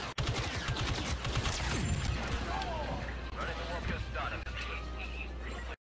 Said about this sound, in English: Ooh, that nade hurt.